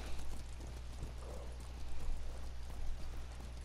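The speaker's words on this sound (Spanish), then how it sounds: "¡Qué buen caballo!" A horse trots in the video game Ghost of Tsushima, its hooves clip-clopping in a steady rhythm over continuous rain and a low rumbling game background.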